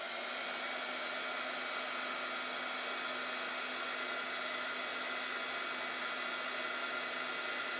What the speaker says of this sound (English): And again, we come in with the heat tool.